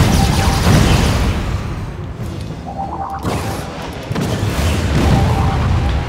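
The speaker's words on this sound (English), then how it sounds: "I love those rockets." Rockets exploding in a space battle in the strategy game Spore, a continuous roaring wash of blasts and booms with a brief whooshing rise partway through, loud and dense throughout.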